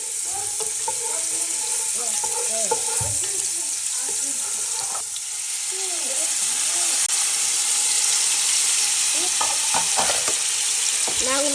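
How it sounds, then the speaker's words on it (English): Spaghetti chow mein noodles stir-fried in a pan, a loud steady sizzle and hiss beneath intermittent scraping and tossing, with a voice speaking over it at times. "I'm going to stir"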